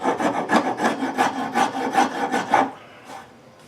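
A rough file rasps rhythmically across wood while a chair leg is shaped, about a dozen quick, loud strokes in steady succession before stopping, close up with no talking.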